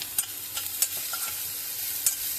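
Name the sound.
capsicum frying and stirred in a pan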